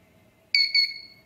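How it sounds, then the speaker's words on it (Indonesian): Two quick, high electronic beeps from a YouTube subscriber counter sound close together after a short silence, clear and near, the second fading out. "kalian dengar tadi dua kali bip artinya ada dua subscriber yang baru masuk"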